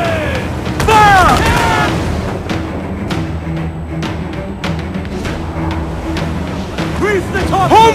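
A pirate ship's broadside in Assassin's Creed IV Black Flag, a string of deep cannon booms spread across several seconds, with shouting crew voices and whistling over a rumbling sea.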